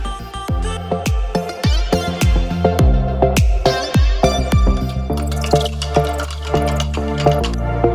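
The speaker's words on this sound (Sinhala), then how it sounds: "අපි මේකට තමන්ට අවශ්‍ය ප්‍රමාණයට ඇඹුල් රස වෙනකල් වතුර එකතු කරගන්න ඕනේ" Water poured into homemade passion fruit juice, a fast run of close, loud plops and splashes that gives way to a steadier filling gurgle toward the end, with no talking.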